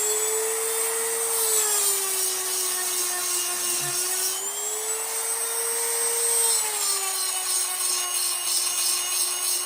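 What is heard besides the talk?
Dremel rotary tool sharpening a chainsaw chain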